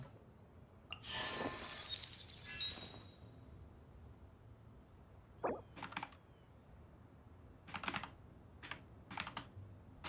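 Keys clatter on a computer keyboard with a slightly faulty N key, in scattered short bursts of clicks, after a loud crash of breaking glass near the start of a quiet room recording.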